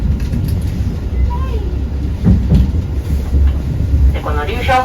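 The Ryuhyo Monogatari sightseeing train runs on the rails between Abashiri and Shiretoko-Shari, with a steady low rumble and occasional knocks of wheels on track, heard from inside the car under a guide's spoken commentary.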